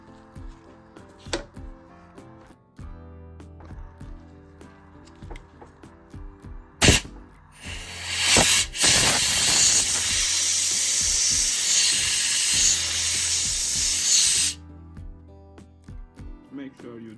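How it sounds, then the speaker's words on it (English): Compressed air blasts across a BMW E46 electric window switch that has just been cleaned with brake cleaner. It comes as a loud sustained hiss of several seconds, led by a few sharp bursts, with background music. "Now I'm gonna blow it with compressed air."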